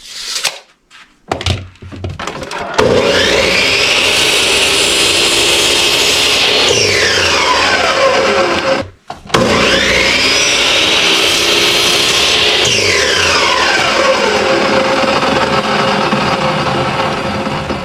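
Miter saw at a workbench station cutting wood boards: after a few knocks and thumps the motor spins up into a loud whining roar as the blade bites through, winds down, then a second cut follows with the same rising and fading whine.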